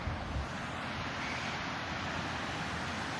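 Big ocean waves break on a beach in a steady, fairly quiet roar, with wind buffeting the microphone throughout. No voices are heard.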